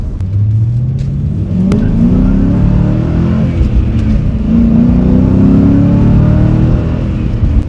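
A Ford SN95 Mustang accelerates hard, its engine note climbing in loud, close, sustained rising sweeps through gear changes, with no talking over it.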